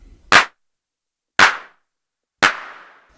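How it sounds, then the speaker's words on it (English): Three crisp, sharp handclap hits from an IK Multimedia Uno Drum machine, evenly spaced about a second apart, each with a short noisy tail, loud and alone. "a rather pleasing clap"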